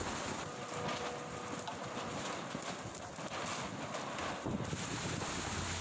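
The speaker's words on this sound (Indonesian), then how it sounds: "Tiupan angin kencang membuat atap sejumlah warung dan lapak milik para pedagang berterbangan." Strong wind on a coast during a storm, a dense continuous roar buffeting the microphone with steady rushing noise throughout and no speech.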